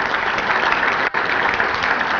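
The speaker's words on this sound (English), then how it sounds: "Let's give them a round of applause anyway." Steady applause from an audience at a chamber of commerce breakfast, dense and continuous with one brief dip partway through, no voices over it.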